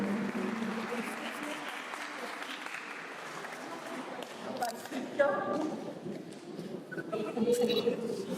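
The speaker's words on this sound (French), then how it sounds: "Vous pouvez les applaudir." Congregation applauding inside a church during a Confirmation and First Communion celebration at Saint-Charles in Molenbeek, a steady moderate clapping wash that swells slightly toward the end, with some murmuring voices underneath.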